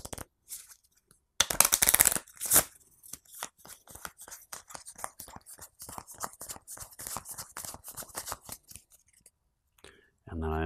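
Cards from the Resident Evil board game are shuffled by hand: a quick burst of riffling, then a long run of crisp, rapid card slaps and clicks, close and fairly quiet.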